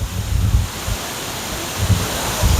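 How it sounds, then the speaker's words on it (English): Water pours over the Wilson Dam spillway as a steady broadband roar, with low wind buffeting rumbling against the microphone in gusts; nobody speaks. "This is the Wilson Dam. I haven't shown this before, and this is, I guess, what you call the spillway"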